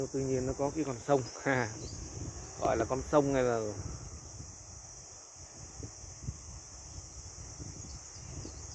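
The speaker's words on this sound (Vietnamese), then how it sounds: "Các bạn nghe tiếng chim hót với tiếng ve kêu không?" Insects, likely cicadas, buzz steadily in a high band through the whole stretch outdoors beside a highway and river in Vietnam, with someone talking over them at first, faint bird calls possible beneath.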